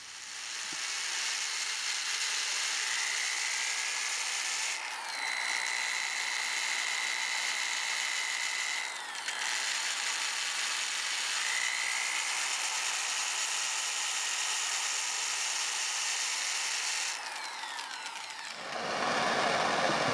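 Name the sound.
power sanding the bottom of a curly maple bowl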